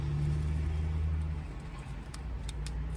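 A car moves slowly through a parking lot outside a gyro shop, a steady low engine rumble with rustling, fairly close and continuous, with no talk.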